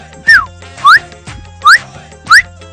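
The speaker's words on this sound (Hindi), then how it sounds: "आपकी सीटी नहीं, कुकर की।" A pressure cooker's whistle sounds as four sharp, evenly spaced rising toots, loud and close, each one brief, with quiet between them.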